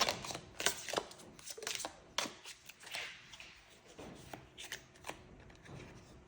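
Tarot cards being shuffled in a continuous, close riffle of papery flutters and soft slaps, ongoing for several seconds with uneven bursts and no voice over it.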